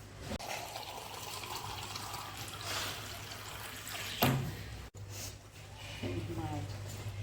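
Cold water is poured softly into a bowl of flour for thalipeeth dough, faint and brief, while a person talks nearby.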